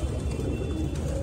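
Pakistani Kale Katle pigeons coo softly in a loft, a continuous low burbling with faint bird chatter layered over steady background noise.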